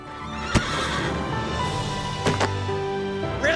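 A horse on a ranch neighs loudly and clearly, a long whinny with a couple of sharp hoof knocks, heard close with no voices.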